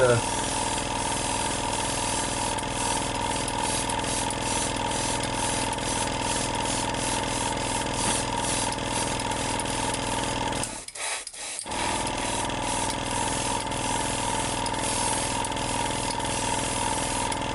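An airbrush compressor runs steadily throughout, a continuous mechanical hum with a faint rhythmic pulsing, briefly dropping out for about a second midway before resuming, while Revell Aquacolor paint is sprayed.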